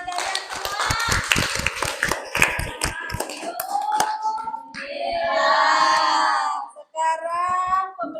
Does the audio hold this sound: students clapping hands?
yes